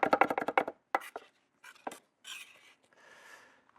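Rapid knife chopping on a cutting board as garlic is minced to a puree, a fast burst of close, crisp taps followed by a few scattered cuts and soft scraping and rubbing sounds.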